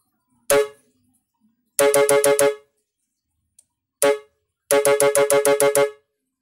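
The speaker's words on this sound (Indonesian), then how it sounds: "kita coba di klakson dua corong" A two-trumpet electric air horn wired to a control module sounds in short bursts: a single blast, a rapid train of five staccato honks, another lone blast, then a quicker run of seven honks, loud and close with silent gaps.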